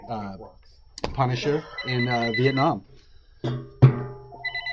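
A telephone rings in a few short electronic bursts near the end, while someone talks close up about comic books.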